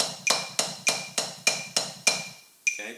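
Drumsticks striking a practice surface in a steady run of eight even strokes on one hand, crisp bright attacks with short ringing decays, followed by a brief pause and one more hit.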